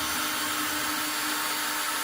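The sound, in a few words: drilling a hole in wood with a 5/16 drill bit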